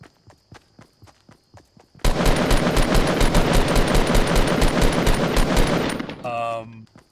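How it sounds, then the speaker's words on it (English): Fortnite Battle Royale weapon fire erupts in a long rapid automatic burst after a few soft footsteps, loud and close, ending in a short tonal cue, with people talking during the burst. "What are you even shooting at?"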